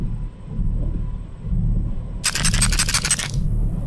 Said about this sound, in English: Mama makes a grinding noise when she's nearby.